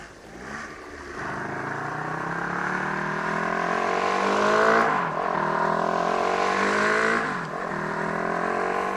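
A motorcycle on a road trip around Iceland approaches with a steady, rising engine drone that climbs through several gear changes, loud and continuous with no talk.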